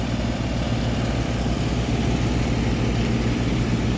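Several pumps run at the collection tank of a water treatment and iron-removal filtration system, a steady, unbroken mechanical drone with a deep low hum, close and even from start to finish.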